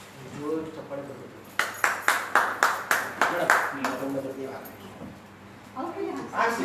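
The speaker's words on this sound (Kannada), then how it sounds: "ಚಪ್ಪಾಳೆ ಬರಬೇಕು" A few people clap in a short burst of about eight sharp, evenly spaced claps at a book release event, with talking before and after.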